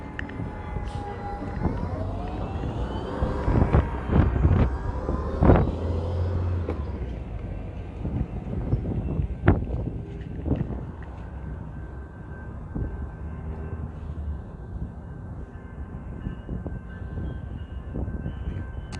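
A Metrolink train passes near a station heading eastbound, a loud broad rumble with clanks and rattles that swells early on and then eases into a steadier, quieter roll, with no talk over it.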